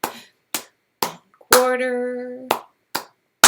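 Hands clap a simple counted rhythm, sharp single claps spaced about half a second apart, close and clear, with a voice counting between them.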